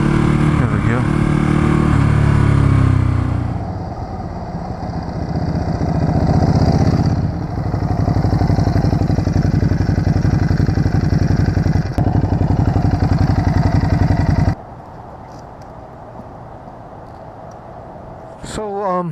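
Ducati Hypermotard motorcycle being ridden, its engine droning loudly and rising and falling with speed, then dropping to a lower steady hum near the end, with wind rush and someone talking over it.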